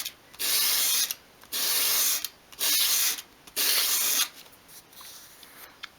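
Four steady, rasping strokes of a small wooden dollhouse shelf piece being rubbed across sandpaper to form a bevel, close and even in rhythm, followed by softer scraping; no one speaks.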